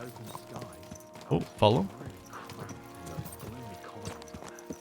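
Horse hooves clip-clopping in the medieval role-playing game Kingdom Come: Deliverance II, steady hoofbeats under a brief exclamation, with a louder snort or whinny midway.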